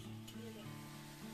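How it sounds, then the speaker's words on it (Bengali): Spice paste for a Bengali koi fish mustard curry frying in hot oil, giving a steady close sizzle with faint stirring, alone with no talk. "মশলাটা কষিয়ে নেব যতক্ষণ না তেল ছাড়ছে।"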